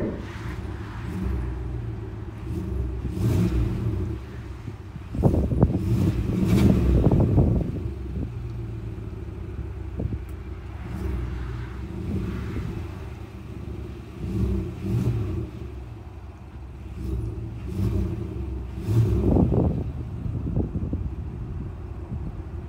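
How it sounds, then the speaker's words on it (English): A 2022 Chevy Suburban Z71's engine revs several times, each swell rising to a deep throaty roar and falling back to a rumbling idle, with some wind noise on the microphone. "We'll go ahead and give a few revs now."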